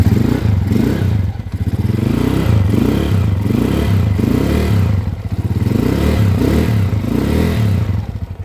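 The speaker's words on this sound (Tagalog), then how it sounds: "ito yung andar ng motor nila, bossing" A motorcycle engine idles steadily and loudly close by, with a regular pulsing beat and faint mechanical clatter from the timing gear, running alone without voices after an overhaul in a repair shop.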